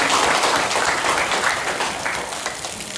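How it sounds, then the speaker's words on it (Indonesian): Classroom applause, a dense burst of clapping from a group of students, loud at first and gradually easing off over a few seconds. "Ya, kasih tepuk tangan."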